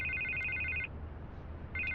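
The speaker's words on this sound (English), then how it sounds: "I can't get the phone to stop ringing." A telephone rings in a Batman video game: an electronic ring that sounds once, goes quiet over a low ambient hum, then starts again, heard close and with no talk.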